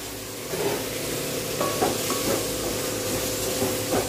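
Small tomatoes and coriander are sautéed in a pan for a gravy, a low continuous sizzle and hiss with a few light clinks of a spatula against the metal.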